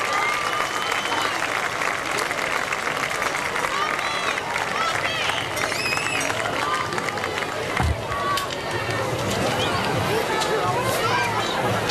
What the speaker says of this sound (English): Let's have one more big round of applause for all our youth football Hilltoppers.